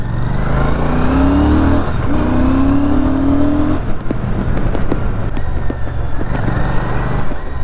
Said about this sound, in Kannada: ಆ್ಯಂಡ್ ಇನ್ನೊಂದು ಎಕ್ಸಾಸ್ಟ್ ಸೌಂಡ್ ಅಷ್ಟೊಂದು ನಂಗೆ ಜೋರಾಗಿ ಏನು ಕೇಳಿಸ್ತಾ ಇಲ್ಲ.